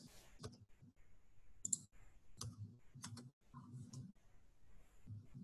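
Someone enters numbers on a computer keyboard in short bursts of soft, close clicks with brief pauses between them, in a quiet room.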